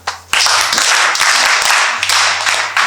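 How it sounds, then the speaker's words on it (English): Students clap for a girl during a Women's Day classroom session, a loud, close burst of many hands clapping together in a steady patter, with a low hum behind it. "Clap for her"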